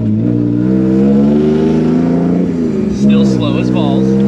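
A drift car with a welded differential and a new gear ratio accelerates, its engine droning with a steady harmonic tone that dips briefly and then climbs again, close and loud, with a voice speaking over it near the end.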